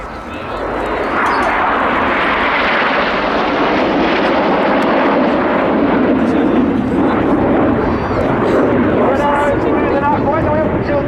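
A Folland Gnat jet flying past at an airshow, a loud roaring jet noise that swells and sustains for several seconds with a broad rushing tone, with a commentator's voice faintly underneath.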